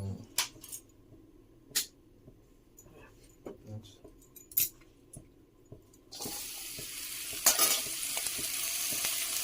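Poi (Malabar spinach) leaves frying in oil in a pan in an Odisha village kitchen: scattered clicks and splutters at first, then a sudden steady loud sizzle that persists, with occasional knocks and faint talk.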